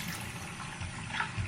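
Tap water runs in a steady broadband rush close by for shaving legs, without talk.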